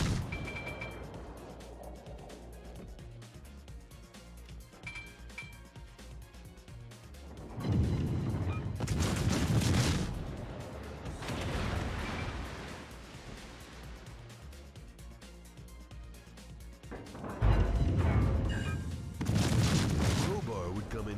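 Naval gunfire and shell explosions in World of Warships around a Tier VIII Japanese cruiser Mogami, heavy booming surges and rumbling blasts rising and falling over a continuous sea-like wash.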